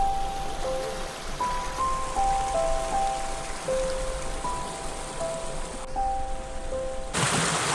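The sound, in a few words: water pouring down from above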